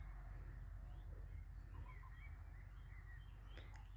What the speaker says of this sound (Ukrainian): Пташки так гарно співають.